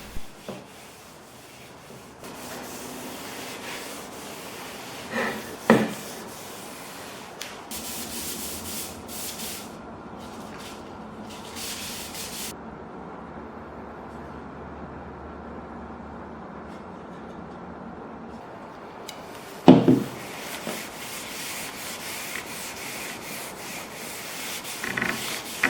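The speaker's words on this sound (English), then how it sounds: "I sand lightly with a 280 grit in between layer of oil" A wooden Greenland paddle being lightly sanded by hand with 280 grit sandpaper between coats of linseed oil, giving a steady, close, soft rubbing hiss with a few sharper knocks along the way.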